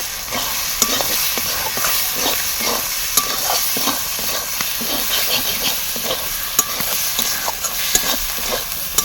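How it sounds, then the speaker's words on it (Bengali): Masala of tomato, salt, turmeric, chili powder and green chili sautéed with a little water in a pan for fish curry, a steady close sizzle with repeated scraping stirs throughout. "অল্প জল দিয়ে মশলাটাকে ভালো করে কষে নেব।"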